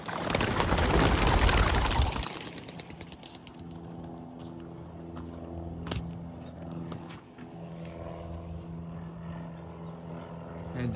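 A flock of white racing pigeons, trained for dove releases, bursts into flight with a loud, dense flurry of wingbeats for about two seconds, then fades into distant flapping over a steady low background hum.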